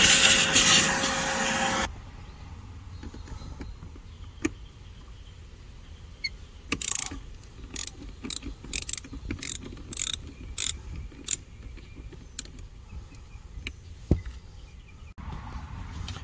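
A hand ratchet loosens a bolt near the battery of a 2008 Mercedes ML550, giving close, sharp clicking bursts in quick rhythmic runs after a brief loud whoosh at the start.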